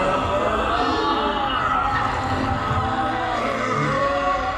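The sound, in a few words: audience imitating zombies bursting into a room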